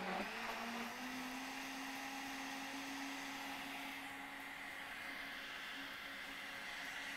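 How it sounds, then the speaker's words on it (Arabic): Blender mixing lemon yogurt cake batter runs with a steady, continuous motor whir throughout, fairly close and even, with no pauses. "نضرب بقى اللي في الخلاط ده"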